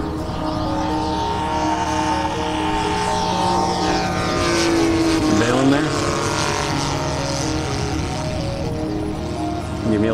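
A radio-controlled Ki-43 Oscar scale model plane flies overhead with a steady, loud propeller and engine buzz that bends in pitch as it sweeps past midway, then drones on in the distance.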